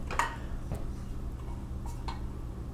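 An army surplus metal cook set is handled quietly, giving a few sparse metallic clinks and taps spread over a couple of seconds against a soft background.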